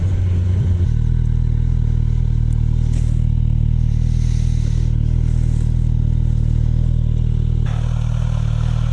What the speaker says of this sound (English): That's the 2018 Kawasaki Ninja 1000.